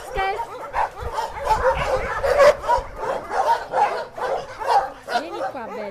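A dog barks and yips repeatedly in quick, uneven bursts, close and fairly loud, with whimpering tones and no talk.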